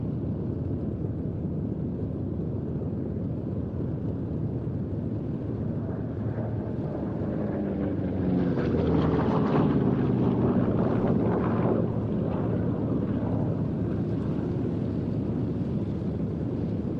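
A P-47 Thunderbolt fighter plane flies over the Duxford air show, a loud, steady radial-engine drone with wind buffeting the microphone that swells as it passes close around the middle, then eases off.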